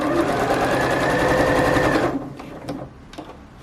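A sewing machine stitches tape onto jubilee bunting, its fast steady whir running loud and close for two seconds, then stopping with a few faint clicks and handling sounds afterward.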